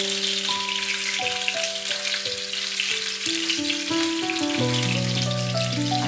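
Round, creamy, cheesy gola kebabs sizzle steadily in a pan as they brown, a constant close crackle under background music.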